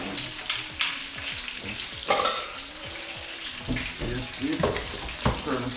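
Jamaican-style brown stew fish cooks slowly in a pot on a kitchen stove, giving a steady soft sizzle and bubbling with occasional stirring scrapes and clinks; a voice speaks briefly at low level.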